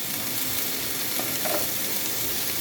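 A chicken and vegetable stir fry, seasoned with pepper, sizzles steadily in a pan as it is mixed. The frying hiss is loud and constant, with faint stirring movement and no talking.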